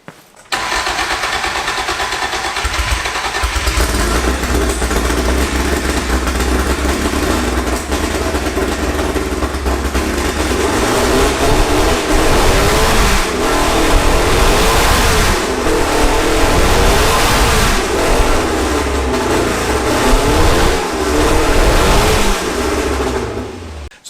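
A Lotus 59 racing car engine fires up and runs loud and close, a raw, rasping idle broken by repeated sharp revs that rise and fall over about twenty seconds.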